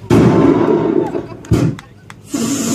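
A cannon on a pirate boat off Ayia Napa fires at an inflatable ball, a loud close blast that rumbles on, a second sharp bang, then a roar as voices talk over it.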